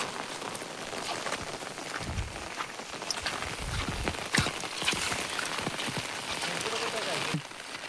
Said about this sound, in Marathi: पाऊस बघा किती पडतोय